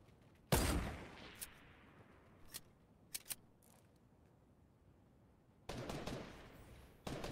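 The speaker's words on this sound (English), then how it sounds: "Shots fired all over the place now." Gunfire in Fortnite: a sharp loud shot, then scattered fainter single cracks, and a dense burst of rapid fire near the end, with quiet gaps between.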